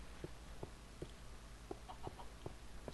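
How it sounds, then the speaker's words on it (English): Chickens in the Minecraft video game cluck in short, separate blips that repeat irregularly over a steady low background hum, fairly faint. "Some loose chickens."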